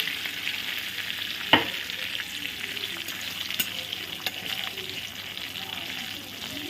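Black cardamom and a pinch of cumin fry in hot oil in a pan, a steady close sizzle broken by a sharp clink of a utensil early on and a few lighter taps as the spices are stirred.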